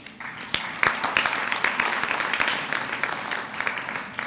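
Audience applause at a June 2015 graduation ceremony, a dense steady wash of many hands clapping that swells early and carries on evenly throughout, fairly loud and close with no talk over it.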